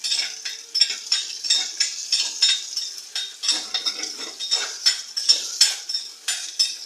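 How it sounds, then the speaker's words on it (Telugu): Green chillies, tomatoes and peanuts fry in a pot while a utensil scrapes and stirs them in quick repeated strokes, over a constant sizzle close by. "పచ్చిమిర్చి, టమాటో వేసుకుందాం. వీటిని ఫ్రై చేసుకోవాలి."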